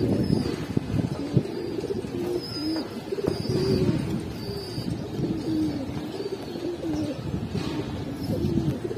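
Giribaz pigeons coo repeatedly in low, rolling phrases close by, with soft chirps and a light background hiss; no one speaks.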